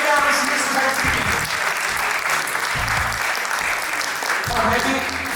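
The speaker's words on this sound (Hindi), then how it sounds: "ताली होनी चाहिए मैडम" An audience claps at a computer science final-year project exhibition, dense applause rolling steadily throughout while a voice talks over it.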